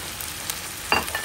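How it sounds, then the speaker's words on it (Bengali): Pigeon meat fries in a pan with ginger-garlic paste. A short, close sizzle ends with a stirring scrape. No one speaks. "কবুতরগুলাকে একটু ভেজে নিই"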